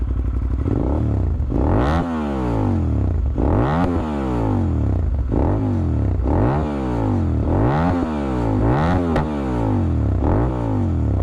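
A Cagiva Raptor 650 V-twin motorcycle, its exhaust baffles removed, is blipped repeatedly, about six loud, rising revs a second or two apart that fall back each time, heard up close with crackle on the overrun.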